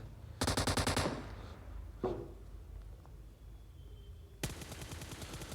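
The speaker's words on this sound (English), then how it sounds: "So shots are being fired towards Foxcal." PUBG match gunfire: two sharp bursts of rapid automatic shots, one at the start and one near the end, with a single crack between them, loud and close against a quiet game background.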